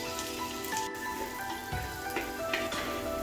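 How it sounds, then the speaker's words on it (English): Continuous crackling sizzle of onions frying in hot oil on high flame, with occasional clinks of a utensil stirring the pan. "fry the onion on high flame until it becomes light golden brown"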